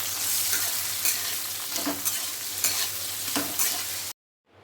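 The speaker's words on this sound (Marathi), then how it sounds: "आता अद्रक टाकून घेते आणि लसूण तर ह्यांना चांगलं भाजून घेते" Garlic and ginger roasting in a pan for a spicy Konkan-coast-style chicken, with a steady close sizzle and scraping stirs throughout, cutting off abruptly just before the end.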